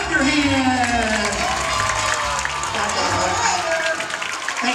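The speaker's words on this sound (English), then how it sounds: "Clap your hands." A science show audience claps and cheers continuously in a dense, loud wash of applause, with crowd voices mixed throughout.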